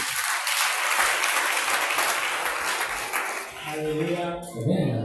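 A congregation at a Christian prayer camp bursts into sustained applause for Jesus, a dense crowd of clapping that fades toward the end as a voice starts speaking over it.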